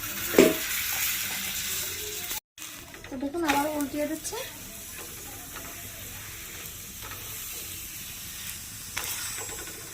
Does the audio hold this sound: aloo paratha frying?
yes